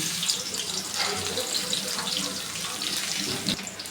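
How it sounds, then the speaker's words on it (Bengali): Water pours and drains through a kitchen strainer into a sink in a continuous, even splashing rush that stays close and fairly soft for the whole stretch. "এখন আমি একটা ছাঁকনিতে ছেঁকে নেব পানিটা।"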